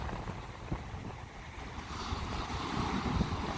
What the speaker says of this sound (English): Yeah, oh, because it's big waves.